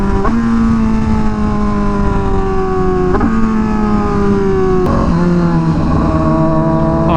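A Honda Fireblade RRR SP sportbike engine at speed, loud and steady, droning with a rising-then-falling pitch through several gear changes, heard from the rider's seat with heavy wind rush.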